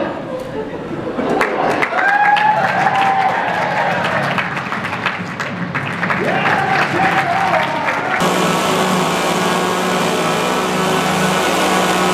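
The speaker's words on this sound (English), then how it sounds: "I would appreciate immediate applause." Audience applause at an outdoor chainsaw juggling show, a crowd clapping steadily for several seconds with an engine-like whine of a running chainsaw and some talk mixed in, ending in a steady mechanical hum.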